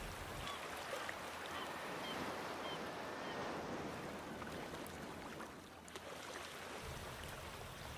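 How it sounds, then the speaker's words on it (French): Ocean waves wash ashore in a soft, continuous rush with a gentle surge and ebb, heard faint and distant without any voices. "Observez les vagues qui vont et qui viennent jusqu'à vous avec force et intensité."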